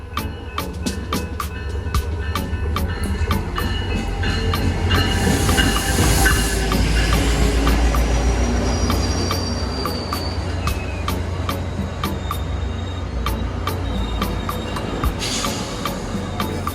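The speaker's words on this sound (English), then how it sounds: "Our train soon pulls to a halt and we can climb aboard." A New Mexico Rail Runner Express commuter train, an MP40PH-3C locomotive hauling three Bombardier bi-level cars, rolls in with a deep rumble, steady clacking of wheels on rail joints, and a hissing burst of brakes as it slows, loud and close.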